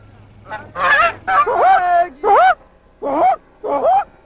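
Geese honk as they come in to land, a run of loud, close calls in bursts with short gaps between them, clear and without talk.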